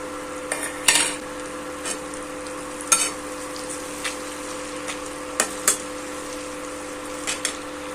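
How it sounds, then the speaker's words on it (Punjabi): Tomatoes and green chili frying with spices in a pan, a low steady sizzle broken by several sharp metallic clanks of a spoon against the pan, close and with no talking. "ਤੇ ਹਰੀ ਮਿਰਚ ਟਮਾਟਰ ਨੂੰ 2-3 ਮਿੰਟ ਲਈ ਪਕਾਵਾਂਗੇ"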